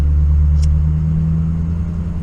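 A diesel truck engine idles and pulls with a low, steady rumble that sounds close and loud inside the cab, with no talk over it.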